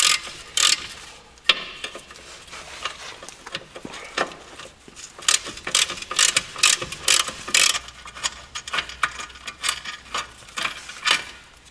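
A ratchet wrench loosens the three bottom 13 mm bolts on the wheel bearing strut of a Golf Mk4, with bursts of rapid metallic clicking separated by short pauses. The sound is close and loud, with no talk over it.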